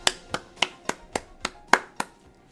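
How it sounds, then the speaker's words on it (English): Applause effect from the video game Danganronpa Mauve: eight or so crisp, evenly spaced claps, close and clear with no talk over them. "Please greet him with applause."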